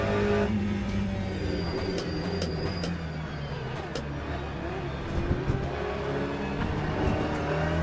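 An Aston Martin race car in the Le Mans Ultimate racing sim drones with a steady engine note, joined by tonal whine and tire noise, at constant moderate loudness throughout.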